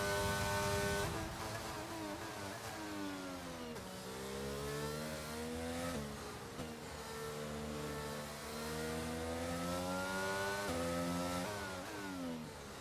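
A Formula 1 car engine in the F1 22 video game revs and climbs through the gears, its high whine rising and dropping repeatedly in a steady, loud drone.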